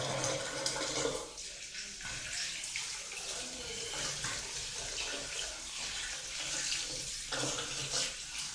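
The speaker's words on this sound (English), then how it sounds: "just rinse off my hands" A bathroom tap runs steadily while hands are rinsed under it, a close, continuous splashing hiss with small shifts as the hands move through the stream.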